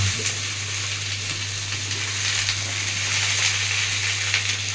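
Food frying over a low gas flame while being stirred, a steady close sizzle and hiss with soft scraping, over a constant low hum.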